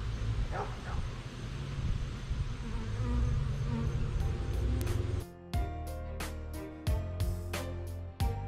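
A dense, steady insect buzz of many honeybees fills the clip, with sharp clicks and knocks cutting in toward the end.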